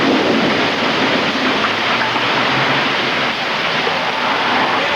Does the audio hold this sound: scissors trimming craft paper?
no